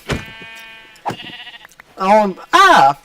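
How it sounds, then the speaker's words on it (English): Sheep bleat in a survival video game, several wavering close bleats, the last two loud and drawn out, with a short spoken remark at the start. "Well, looky here. We have a few sheep."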